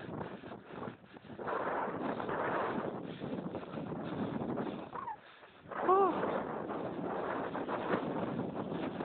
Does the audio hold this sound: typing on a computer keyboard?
no